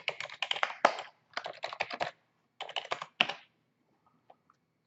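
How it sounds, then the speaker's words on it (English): Someone types a username and password on a computer keyboard at a login screen for a security camera system. Several quick clusters of close, crisp keystrokes come in bursts, then stop, with a few faint clicks after. "You're going to type in your username and your password."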